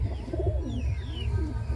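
Madrasi high-flying pigeons, a male and a female released together at a Kolkata pigeon sale, give a continuous low, throaty cooing with rising and falling warbles over a steady rumbling background.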